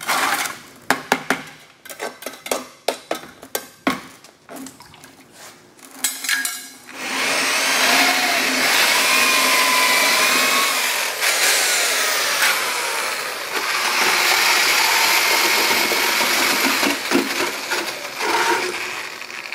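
Collomix paddle mixer churning GFRC concrete countertop mix in a bucket, starting with a few clattering knocks, then running as a steady loud whirring drone for most of the time, switching speed and stuttering briefly near the end.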